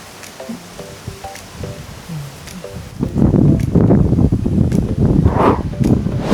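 Birds chirp briefly at a campsite before strong gusts of wind hit the microphone, roaring and buffeting loudly for the rest of the clip.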